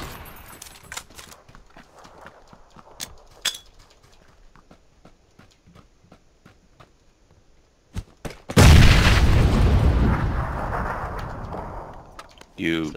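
A grenade blows up in PUBG with a sudden heavy boom that rolls and fades over several seconds, after quiet footsteps, clicks and scattered faint shots, with people talking.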